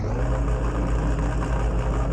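Renault Clio V6 engine idling steadily with a lumpy cammed tone through a very short exhaust, a constant close rumble with no revving across the short stretch.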